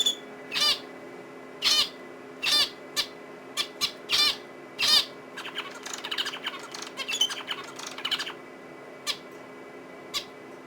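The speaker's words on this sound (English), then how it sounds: "We got 2 little zebra finches here for pets." Two pet zebra finches chirping indoors, short sharp calls in quick bursts, then a busier patch of tiny rapid chirps, fairly close and alone without talk.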